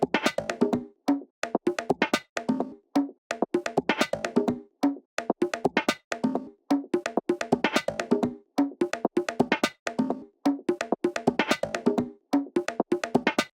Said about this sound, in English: Now we have our percussion loop.